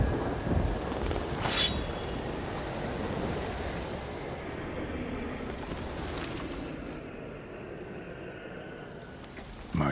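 A thunderstorm in The Witcher 3: Blood and Wine, with steady rain hissing and a loud thunderclap early on, then rumbling fading into continuous downpour.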